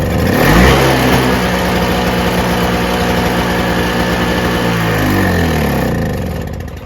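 A Toro CCR2000 snowblower's small engine runs steadily at full throttle with the choke on, a loud, even droning hum with a slight surge near the start and a dip at the end, with no one speaking.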